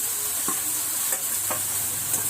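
Roasted vermicelli being stirred into onion and tomato in a pan for upma, a steady sizzle with a few distinct spoon scrapes spaced through the stirring, close and alone.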